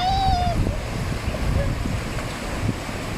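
Sea waves on a white sandy beach at Chanthaburi, a steady loud wash of surf and wind noise on the microphone, with a brief whistle-like tone at the start.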